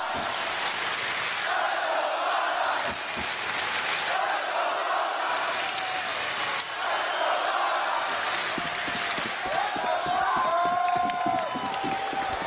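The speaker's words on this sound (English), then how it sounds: "Listen to this crowd." A big arena crowd at a Counter-Strike major esports match roars and cheers without pause, a dense, loud wall of voices that swells and dips slightly throughout.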